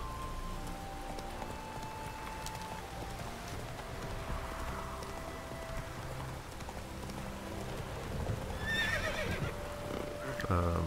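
In the Witcher 3 Hearts of Stone expansion, Geralt's horse trots in over steady patter of rain, then lets out a clear whinny near the end, with hooves clip-clopping underneath.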